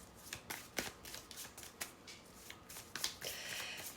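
Tarot cards being shuffled and drawn, with a quick series of close, crisp riffling bursts and soft slaps, ending in a longer continuous shuffle.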